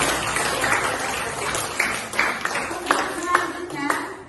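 A classroom of students claps hands together, a dense, continuous patter of many overlapping claps at moderate distance, with a few sharper individual slaps standing out and faint voices mixed in.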